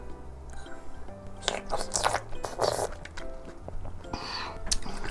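Close, crunchy bites and wet chewing of juicy tangerine segments, in bursts with short pauses, near and fairly loud, with no talking.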